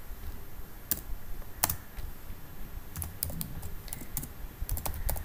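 Typing on a computer keyboard, with irregular crisp key clicks in short bursts that are close but quiet, over a low steady background hum, no voices.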